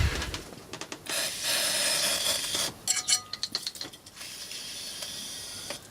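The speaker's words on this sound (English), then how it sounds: "Get my contact cleaner and I'll start giving those sockets a bit of a clean." Aerosol contact cleaner sprayed into the sockets of a keyboard tester with a loose wire: long, close hissing bursts broken by small mechanical clicks and rattles.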